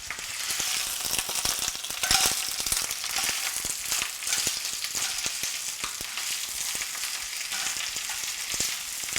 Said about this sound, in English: You have to turn it frequently so that all those spinach leaves cook down evenly